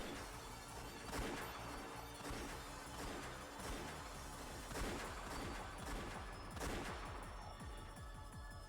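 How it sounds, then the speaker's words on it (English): Repeated bursts of gunfire in the Umineko visual novel, several volleys of sharp cracks and crashes spaced a second or two apart, fairly quiet and without voices. "As soon as I heard the sound of repeated gunfire"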